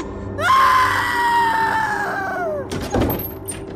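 A loud, sustained high-pitched scream of a woman falls in pitch over a couple of seconds, followed by a heavy thud like a door banging.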